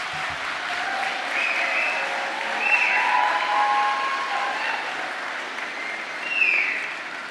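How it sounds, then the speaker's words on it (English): Graduates at a university health faculty graduation ceremony applaud their supporters, a loud sustained wave of clapping from a large hall crowd with faint scattered cheers and whistles rising above it. "Face your supporters and give them a good round of applause."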